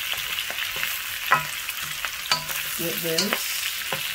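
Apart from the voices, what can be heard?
peppers, scallion and onion frying in a pan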